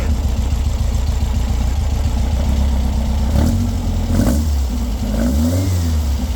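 A custom VW Karmann Ghia convertible hot rod engine rumbles loudly at low revs, then revs up in a few rising bursts before settling back, close and dominant throughout.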